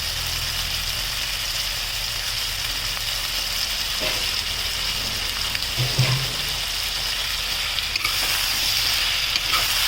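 Brinjal fries in oil in a pan, giving a loud, steady sizzling hiss throughout, with occasional soft stirring knocks and a low background hum.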